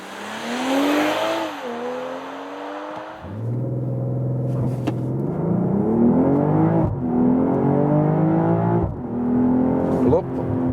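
A 2022 BMW M440i xDrive Gran Coupé accelerates hard to 100 km/h, heard from inside the cabin: a strong engine note climbs steadily and drops at each of several quick gear shifts.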